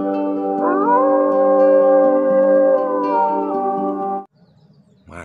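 A wolf howls in one long, steady tonal call that rises slightly in pitch and lasts about four seconds, close and clear, then stops, followed by faint background noise and a brief final sound.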